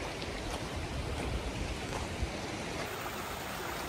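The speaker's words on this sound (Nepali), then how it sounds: "झर्नाको पानी आइरहेछ, बगिरहेछ झर्नाको पानी।" A waterfall on a mountain trekking trail in Manang, Nepal, pours in a steady, broad rushing wash of flowing water that holds even throughout, moderately quiet and with no voices.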